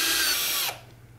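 Power driver screwing M3.5 screws into a rocket body coupler fitted inside an airframe section, a loud close whine that cuts off abruptly partway through, leaving quiet room tone.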